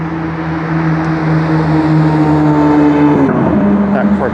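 A Corvette sports car passes on a city street in Toronto, its engine a steady loud drone that swells and shifts pitch as it goes by, with street noise around it.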